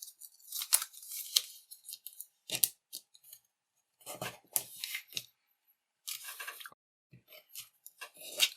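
Origami paper being folded into a lily, with rustling, creasing and brushing sounds in scattered short bursts between quiet gaps, close by.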